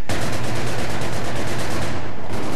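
Grenade launcher firing in Battlefield 3's Grand Bazaar, a loud, dense barrage of rapid blasts filling the whole stretch with hardly a break.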